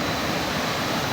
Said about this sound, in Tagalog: yung ingay ng tubig.